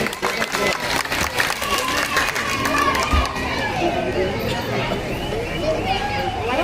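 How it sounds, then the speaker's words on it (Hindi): A crowd at an election rally for a Bahujan Samaj Party candidate claps and cheers loudly, with shouting and babble mixed into the noisy, sustained applause. "सभी जोरदार ताली बजाकर उनका अभिनंदन करें"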